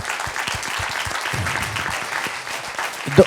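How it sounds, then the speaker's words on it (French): An audience applauds after a debate with Nicolas Hulot at ESCP, a dense, steady wash of many hands clapping at close range throughout, with a brief louder burst near the end. "Vous pouvez applaudir"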